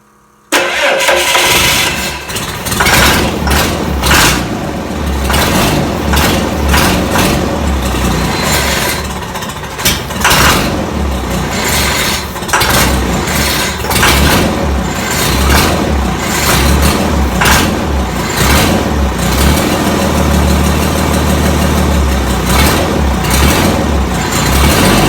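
A 1952 Dodge truck engine turns over and catches, then runs at a rough, loud idle close by, steady and unbroken for the rest of the stretch.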